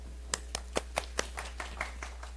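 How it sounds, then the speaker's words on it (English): A few people in a small audience at a talk clap sparsely, about a dozen distinct hand claps in an uneven rhythm, fading out over a steady low electrical hum. "Everybody clap."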